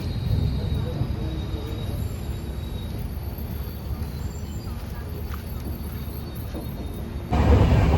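Steady low rumble and rattle of a moving Sawantwadi–Diva passenger train heard from inside a carriage, continuous throughout, growing louder near the end.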